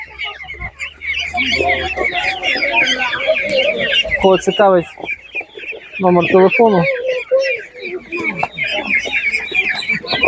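Chickens cluck continuously and fairly close at a village poultry market in Khryplyn, Ivano-Frankivsk region, with a few louder squawking bursts mid-way and people talking over the flock.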